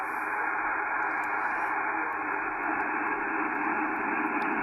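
A thin, band-limited HF ham radio voice comes through a narrowed receiver bandwidth with a steady hiss of background noise beneath it, quiet and continuous.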